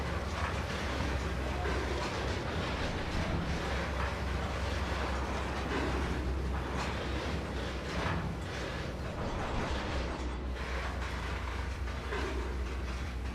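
Rolling rumble of a train pulling into a station in the Trainz 2022 simulator, a steady, continuous wash of wheel and carriage noise with faint rattling, with no talk over it.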